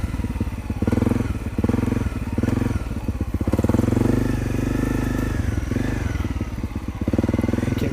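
A Honda CRF250L Rally motorcycle rides off road with a steady, loud engine drone, rising and easing with throttle, mixed with clattering and thuds from the rough ground.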